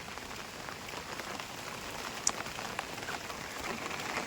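Heavy monsoon rain falls steadily in a Konkan village, a soft, continuous hiss of drops with no voices, fairly quiet throughout.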